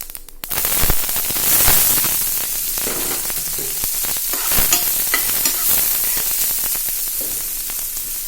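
Onions, ginger and green chillies hit hot oil with popped mustard seeds, a sudden loud sizzle settling into a steady crackling fry, with occasional stirring scrapes.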